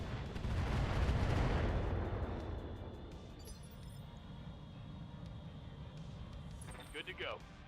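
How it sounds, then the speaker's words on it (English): Missile salvo launched from a mech in the BattleTech video game, a loud rushing burst that swells then fades into a lingering rumble, with a brief sharper whine near the end. "Fire the missiles."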